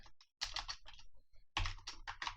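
Code is typed on a computer keyboard in quick, close bursts of crisp key clicks, with a brief pause between two runs of keystrokes.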